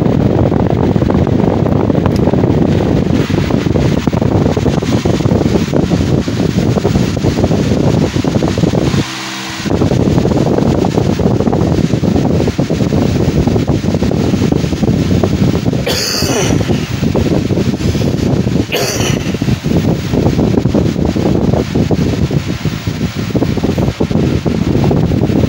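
A Patton U21887 18-inch air circulator fan runs at medium speed with a steady, loud broadband whoosh, briefly dipping once and then resuming.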